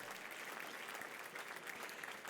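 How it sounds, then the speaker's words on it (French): Steady applause from a gala audience fills the whole stretch, a dense, even patter of clapping hands without pause. "On peut les applaudir pour les remercier d'être avec nous ce soir à nouveau."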